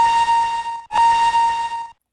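Two loud, close blasts of a steam engine whistle from Thomas the Tank Engine, a steady shrill tone cut by a brief break near the middle, then ending abruptly.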